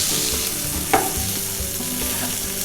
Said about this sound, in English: So I'm frying it.